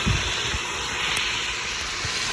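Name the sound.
paprikash sauce base sauteing in a pan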